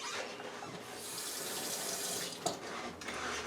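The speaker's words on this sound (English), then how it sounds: "Then let me rinse this off." Kitchen tap water runs in a steady, close hiss while something is rinsed under it during meatloaf preparation, with a brief clatter near the end.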